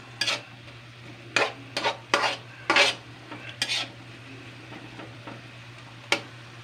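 Adobong kangkong with eggplant frying in a pan, with several sharp bursts of hot oil spattering and scraping stirs over a faint steady hum, close and irregular.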